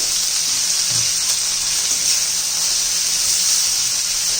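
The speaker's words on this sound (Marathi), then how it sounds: "शिमला मिरची एक दोन तीन मिनटं छान असे याच्यात परतून घेते" Chopped capsicum sautés in a hot pan, a steady bright sizzle and hiss running unbroken and fairly loud throughout, with no talking.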